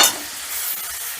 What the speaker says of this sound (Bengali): টমেটোটা একটু নাড়াচাড়া করে দিয়ে দিচ্ছি আদা আর কাঁচা লঙ্কা বাটা।